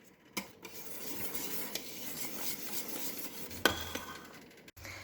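A spoon stirs a boiling pot, scraping and clinking against the pan in short strokes over a low bubbling background, with a sharp clatter midway and no voices.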